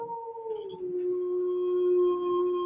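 Dog howling up close, a single sustained, wavering tonal howl that starts with a few yips and settles into a long steady note.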